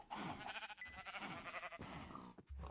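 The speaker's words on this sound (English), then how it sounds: "So let's breed up some of these sheep real quick." Sheep bleat repeatedly in Minecraft, the calls coming in a quick overlapping series, close and clear.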